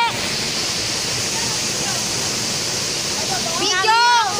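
A waterfall on a stream roars as a constant broadband rush throughout, close and steady, while voices talk over it toward the end.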